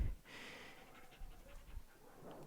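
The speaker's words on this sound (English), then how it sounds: "He's panting." Gravy the dog pants to cool off: quick, soft, rhythmic breaths, close but faint, with no one talking.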